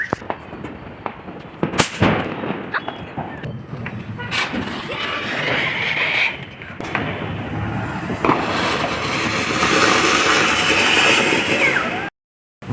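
Firecrackers set off during Diwali celebrations crack and pop in sharp, irregular bursts, loud and close, over a continuous crackling, fizzing roar with faint voices in the background.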